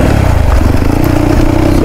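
Motorcycle engine revving on a cold start in rough riding terrain, a loud close throbbing drone held steady throughout, with no talk over it.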